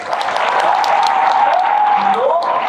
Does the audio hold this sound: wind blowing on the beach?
no